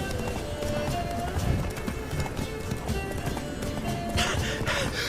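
Roach the horse galloping in The Witcher 3, a steady rapid clip-clop of hooves running continuously under game music and ambience, with a brief whinny-like tone and occasional voice.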